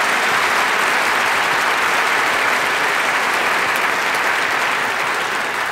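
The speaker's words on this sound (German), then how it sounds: "der hat sicherlich einen Beifall verdient" Steady, dense applause from a large studio audience in a hall during a televised bet show, loud and continuous throughout with no voices on top.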